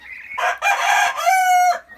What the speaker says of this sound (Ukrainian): півні кукурікують